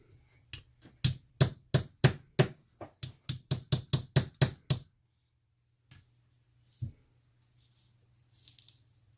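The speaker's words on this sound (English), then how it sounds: "Take the punch. I'll take the hammer." A quick series of about twenty sharp metallic hammer taps on a punch, driving out a roll pin, in a steady rhythm, then a couple of isolated knocks and quiet handling.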